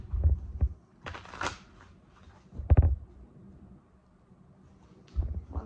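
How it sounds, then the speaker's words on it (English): Tarot cards being shuffled in a few short bursts of papery riffling and slapping, close and fairly quiet, with pauses between. "One last shuffle here."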